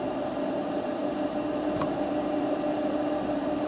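A steady, rushing hiss of a 1.5 kW electric kettle heating water, powered through an Anenji ANJ-4000-24V solar inverter, constant in level throughout with a low hum underneath and no voices.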